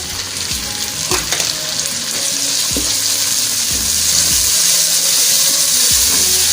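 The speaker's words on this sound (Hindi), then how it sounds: "तो अभी मैं इसमें डालने लगी हूँ 2 बड़े टमाटर" Tomatoes go into a frying onion masala for Bihari-style masala baingan, setting off a loud steady sizzle with several stirring scrapes and clinks over the pan.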